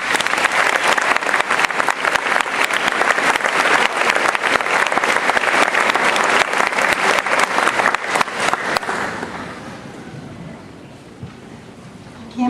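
An audience applauds to welcome alumni speaker Dr. Paula MacIan at a college event, a dense sustained round of clapping that fades out after about nine seconds into quiet room tone.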